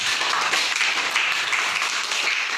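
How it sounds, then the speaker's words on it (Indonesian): Classmates clap for a group that has just presented in a classroom, a dense, steady patter of many hands filling the whole short stretch at an even level. "beri tepuk tangan kepada nomor 2"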